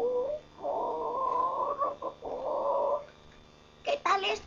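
A hen and her chicks clucking in a Spanish-language audio story, a long run of nasal clucking calls broken by a short pause, followed by a brief burst of higher sounds at the end.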